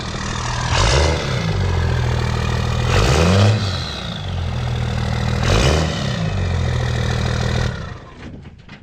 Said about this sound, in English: it's got the 4-inch exhaust straight pipe on the truck.